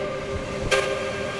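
Train-driving video game with a Victorian Railway S class locomotive running a V-line commuter express, a steady rail rumble with a sustained tonal whine and a brief hissing burst midway.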